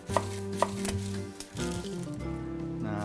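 A knife cutting through a vegetable on a cutting board while preparing vegan fajitas, two sharp taps followed by a duller slicing crunch, close and quiet with no talk.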